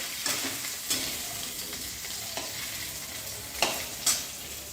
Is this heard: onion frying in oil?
yes